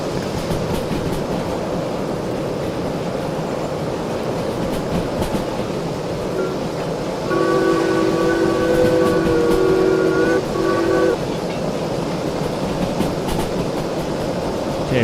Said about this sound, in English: Definitely not the chuffing noises I heard.